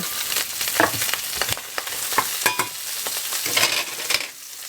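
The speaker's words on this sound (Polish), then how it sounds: "I teraz wrzucam już te warzywa, żeby to było smaczniejsze." Vegetables sizzle in a frying pan as they are stirred, with a constant crackling hiss broken by repeated scraping strokes and utensil clicks at an uneven rhythm, close up and with no talk.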